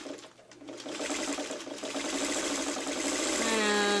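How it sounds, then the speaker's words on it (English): A sewing machine with a quarter inch foot stitches a quick quarter inch seam on quilting fabric, a close continuous motor whir that rises slightly in pace as it runs. "I'm going to start sewing with my quarter inch foot"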